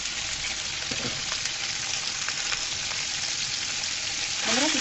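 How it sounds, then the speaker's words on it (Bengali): Chicken pieces coated with salt and turmeric deep frying in hot oil, a steady dense sizzle that holds at an even level throughout, swelling slightly louder at the very end. "তারপর চিকেনগুলোকে করে আমি সুন্দর করে ডিপ করে ভেজে নিব।"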